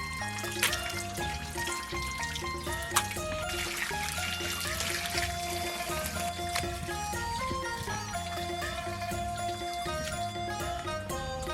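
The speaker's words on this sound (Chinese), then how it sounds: "把鸡杂清洗一下" Water runs continuously from a tap while chicken offal is rinsed and handled in a sink, a steady trickling splash with small clinks and sloshes, close and fairly quiet.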